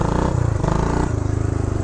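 A 1975 Honda Redline Powroll 412cc motorcycle pulling away on the clutch without throttle, its engine giving a loud, close, steady low thumping idle that barely changes pitch.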